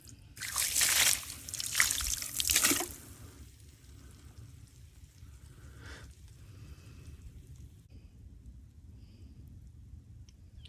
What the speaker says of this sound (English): Just curious to see what happens if you pour water over it.